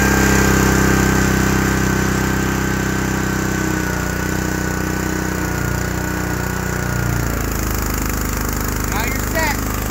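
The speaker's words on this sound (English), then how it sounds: "then you're ready to start your engine and go ahead and start watering" The small engine on a tree-watering trailer runs steadily at close range, a constant droning hum whose pitch dips partway through, with a voice speaking over it near the end.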